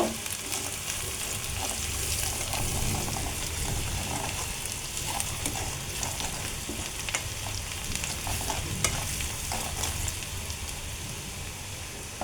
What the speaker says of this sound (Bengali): হলুদ দেবো, দিয়ে এটাকে একটু আমি ভালো করে কষায় নেব